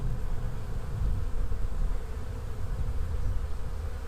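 Honeybees from an open, thriving hive hum in a steady, dense buzz that stays close and even throughout, with no voices over it.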